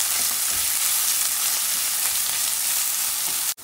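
Onions and green onions frying in a pot, producing a strong, even sizzle with faint stirring scrapes, ending in a sudden brief drop near the end.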